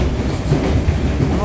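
A train on Tashkent's new surface metro line rumbles steadily nearby with a dense, continuous rolling roar, briefly and without a break.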